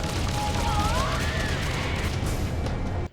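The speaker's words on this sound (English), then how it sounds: "the sounds of weapon fire is just everywhere" Weapon fire in a space dogfight from the video game Freelancer, a dense, continuous barrage of blasts and laser shots with sweeping whistling tones, loud and steady throughout before cutting off abruptly at the end.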